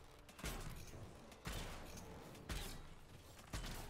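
Crossbow bolts fired in the video game Dragon Age: Inquisition, four evenly spaced heavy thumping shots about a second apart, quiet and steady, each followed by a short rattling decay.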